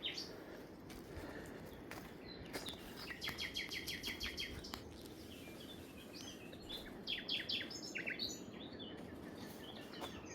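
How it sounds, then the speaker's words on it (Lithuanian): Birds chirp in a forest near Budva, Montenegro, with several bursts of rapid high trilling song and scattered single calls over a faint steady outdoor background, moderately distant and quiet. "Paukšteliai čiulba"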